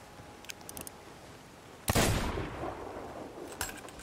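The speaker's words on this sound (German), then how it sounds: "Ich schieße einfach mal auf gut Glück auf die." Sniper rifle shots in Sea of Thieves fired at long range: a single loud, sharp blast that trails off, with fainter crackling shots before and after.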